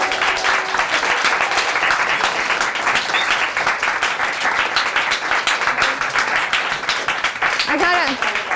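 A studio audience at a TV pilot taping breaks into steady applause, a dense, continuous patter of many hands clapping that lasts throughout, with a short voice near the end.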